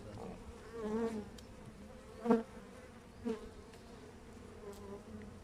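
Bees hum and buzz nearby in a steady, low drone, with a few brief sharp knocks or taps breaking through; the sound is fairly quiet overall.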